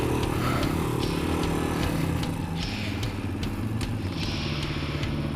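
A Honda NX125 motorcycle ridden through loose sand, its small single-cylinder engine droning steadily and close with clattering mechanical noise and shifting revs, no talking.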